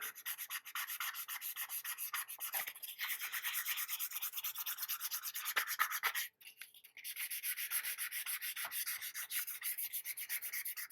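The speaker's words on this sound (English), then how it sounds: "I'm just gonna get this light sanding." A primed 1/4-scale figure model is lightly sanded by hand, a soft, steady rhythmic rubbing of close strokes with a brief pause partway through.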